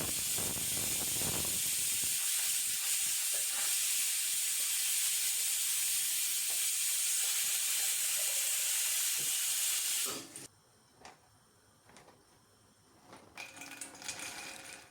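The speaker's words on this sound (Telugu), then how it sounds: "ఇంకా వెజిటేబుల్స్ సొరకాయ అయితే ఇంకా ఉడుకుతూనే ఉంది" Bottle gourd vegetables boil in a pot on a stove, giving a loud, steady steamy hiss for about ten seconds before it drops away to quieter, intermittent bubbling and kitchen sounds.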